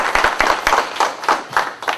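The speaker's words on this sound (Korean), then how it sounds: "박수." Audience clapping at a labor-management relations forum in Yeosu, a steady burst of many hands close by with rhythmic rises and falls in intensity, no talking over it.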